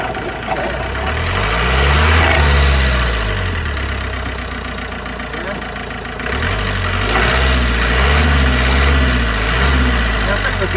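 Nissan Qashqai driving on the road, its engine note rising and falling steadily with gear changes, a continuous close interior drone lasting throughout.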